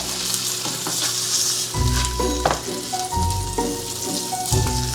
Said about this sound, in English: Okay, we're just gonna flip our steak now.